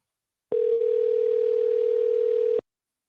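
Phone ringback tone while placing a call: a single steady electronic tone holds for about two seconds, clean and alone, with silence on either side.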